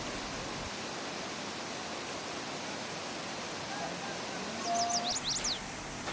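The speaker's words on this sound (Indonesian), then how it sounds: "Suara percikan air dan kicauan burung memberikan rasa tenang." Waterfall fed from three sides at Ketol, Indonesia, splashing as a steady broadband wash, with a few short bird chirps and a brief whistle near the end.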